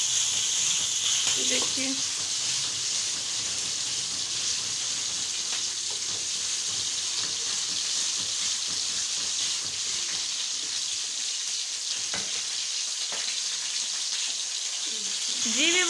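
Chicken frying with spinach masala in a pot, a steady loud sizzle throughout with occasional stirring scrapes and a brief spoken word near the start.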